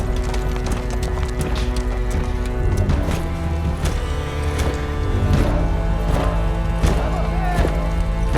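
Horse hooves clip-clopping in a rapid, loud rhythm with sharp repeated strikes, joined by tonal whinnying and neighing over a busy background, as in a film sound mix.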